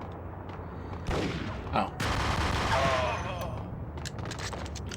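Gunfire in the action game Max Payne: a sudden volley of overlapping shots and booming impacts breaks in after a quiet start, swells to a dense burst, then thins out, with a brief voice heard under it.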